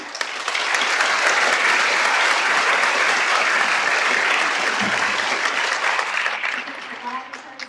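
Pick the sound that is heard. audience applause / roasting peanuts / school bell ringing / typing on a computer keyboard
audience applause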